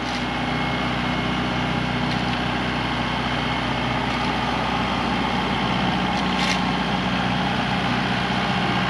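A tractor fitted with an underslung grader attachment runs steadily nearby, a continuous low engine drone and idle-like rumble holding level throughout with no talk.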